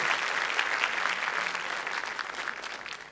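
A studio audience on a French television show applauds strongly for the Basque stone lifter Iñaki Perurena, a dense, even wash of many hands clapping throughout.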